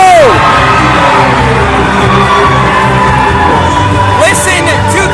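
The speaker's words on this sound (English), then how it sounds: "Listen to this crowd." A loud crowd cheers and whoops at a Phantom Six Wrestling event, sustained and roaring throughout, with shouts rising over the noise and an announcer speaking over it.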